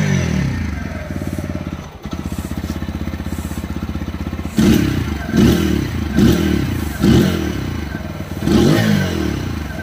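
A TVS Apache RTR 160 4V BS6 motorcycle idles steadily with a fast, even exhaust pulse, then revs in repeated loud blips that rise and fall, close by and on its own.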